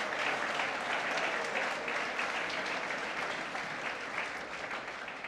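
A church congregation applauds, with dense, sustained clapping that holds steady and then tapers slightly toward the end, heard from within the crowd and with no voices.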